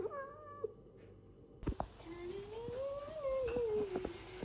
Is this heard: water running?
no